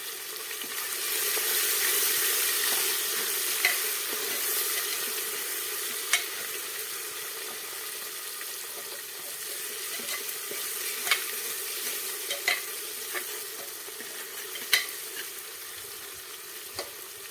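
Tomato being stirred and fried in a pan for farali khichdi, a steady soft sizzle broken by occasional scraping clicks of a utensil against the pan.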